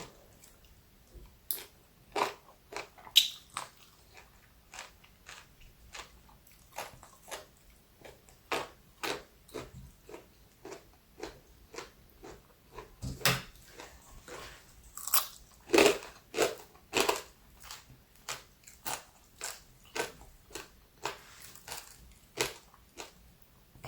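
Crisp pork being bitten and chewed up close, a steady run of sharp, loud crunches repeating every half second or so with no talk over them.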